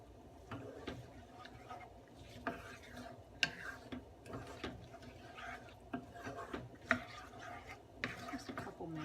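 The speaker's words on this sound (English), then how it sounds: "So then now I'm just gonna saute these up." Chopped vegetables being sautéed in a pan, with soft stirring, scraping and occasional utensil taps recurring irregularly at low volume throughout.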